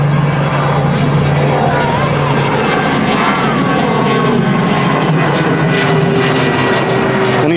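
Propeller aircraft on the runway at Manchester Airport during takeoff, a steady loud engine drone with a faint tonal hum, heard continuously from a moderate distance.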